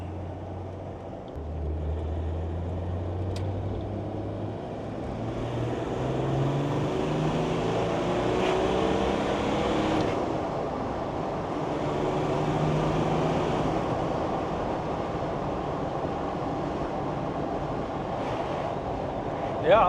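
A Land Rover Defender TD5 fitted with a Mahker M57 engine cruises along a road through an industrial estate, its low, steady drone close and continuous beneath heavy wind and road rush, with faint talk in the cabin.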